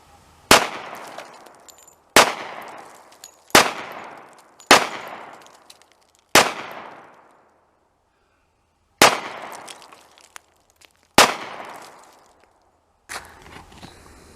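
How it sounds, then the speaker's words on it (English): A .45 caliber pistol fires seven sharp, loud shots outdoors, each followed by a short decaying echo, spaced one to two seconds apart with a pause midway through. "How about a couple rounds from the 45?"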